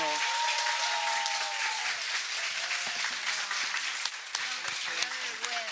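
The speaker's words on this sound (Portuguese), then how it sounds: "uma salva de palmas" An audience at a university lecture on human rights in Latin America applauds, dense continuous clapping at a steady level, with voices talking over it.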